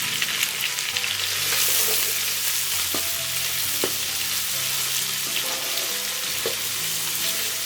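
About ten sliced onions fry in a pan for Andhra-style chicken pulao, giving a steady, loud, close sizzle throughout, with occasional stirring clacks and scrapes.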